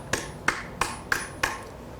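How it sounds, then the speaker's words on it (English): Metal hammered during shell forming in jewelry metalsmithing, five sharp strikes at an even, steady rhythm, close and alone with no talking. "So you move the piece so that you can keep hammering like this."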